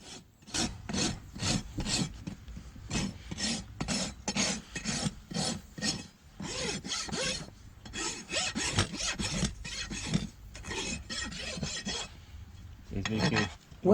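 A rasp worked in repeated rhythmic strokes across a horse's hoof, close and scratchy, with short pauses between bursts of filing.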